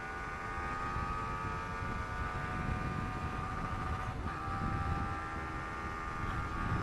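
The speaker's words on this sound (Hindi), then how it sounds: "ओ यार ये तो बहुत अच्छे से खींच रही है बाइक।" A Yamaha R15 V3 BS6 motorcycle being ridden flat out in third gear during a top-speed run, a steady high-revving engine whine under constant loud wind rush, with no voices.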